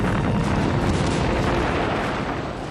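Heavy, continuous rumble of tank guns and battlefield fire in the Stalingrad assault of October 1942, a dense roar of blasts without clear separate shots, loud and sustained throughout with no talking.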